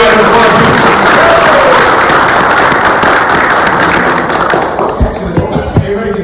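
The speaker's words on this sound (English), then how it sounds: "One more round of applause." Audience at a school board meeting claps loudly and steadily, then the applause thins into scattered claps and thumps as it dies away.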